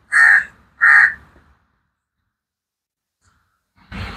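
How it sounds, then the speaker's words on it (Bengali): A crow caws twice close by, two loud harsh calls in quick succession, then silence and a brief rustle at the end. "যেটা কাকটা কাকে ডাকছে,"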